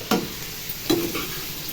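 Onions frying in a pan for vangi bath, a faint low sizzle broken by two sharp stirring scrapes of a spatula, close by with no talking.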